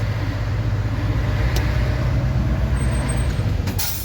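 A long-haul truck cab rolls slowly through rush-hour traffic, its steady low engine drone and road rumble filling the clip, with a brief hiss near the end and no talking.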